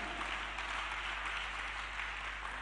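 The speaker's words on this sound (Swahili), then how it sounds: "Hebu mpigie Yesu makofi mengi mengi." A church congregation applauds at a sermon, steady sustained clapping from a large crowd filling the whole moment with an even wash of claps.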